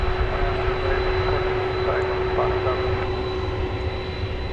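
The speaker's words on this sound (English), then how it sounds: "It's ABX Flight 322, a DHL liveried plane operated by ABX Air." A DHL-liveried ABX Air Boeing 767-300ER cargo jet at DFW Airport gives a steady, continuous engine roar with a sustained tonal whine, while a voice talks faintly over it.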